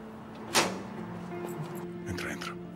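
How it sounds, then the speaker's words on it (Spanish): Door opening with a sharp latch click and a soft creaking scrape, close in a quiet room, amid low voices. "Abre esa puerta"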